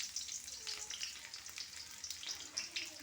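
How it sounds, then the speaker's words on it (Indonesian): Shallots and garlic crackle and sizzle in hot oil, a dense, even frying hiss with small popping bursts throughout. "ini bunda masukkan minyak secukupnya aja. Oke, masukkan bawang merah,"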